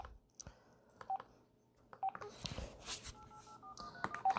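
Telephone keypad dialing tones beep several times in a row, short separate pitched blips over faint background noise and distant voices, with other faint clicks and rustles between presses.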